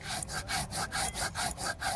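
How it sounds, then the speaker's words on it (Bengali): Poppy seeds are ground on a grinding stone for a Bengali vegetarian meal, making a steady back-and-forth rasping scrape that repeats about eight times in two seconds, close and even. "এবার পোস্ত বেটে নেব।"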